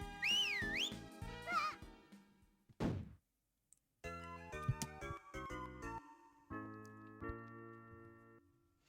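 A short rising-and-falling whistled tune plays near the start in a video game, followed by thunks and bright game chimes and tones as a turnip is planted.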